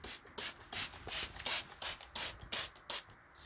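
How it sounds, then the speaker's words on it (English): Rapid bursts of a spray bottle, about a dozen sharp hissing squirts in an uneven rhythm, close and fairly loud. "I'll spray them all down really good"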